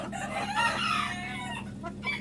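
Columbian Light Brahma chickens at a fancy poultry farm cluck and crow close by in a busy, continuous chorus with no talking.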